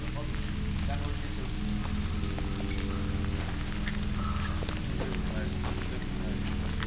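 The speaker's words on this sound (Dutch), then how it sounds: "Maar het regent ook echt." Steady rain falls outside an abandoned psychiatric hospital, a dense, constant patter that never lets up, with people talking over it.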